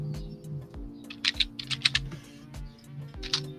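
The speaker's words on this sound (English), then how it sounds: "I like mechanical keyboards." Rapid clacking keystrokes on a mechanical computer keyboard, loud and close, in uneven bursts with short pauses, over a low steady background hum.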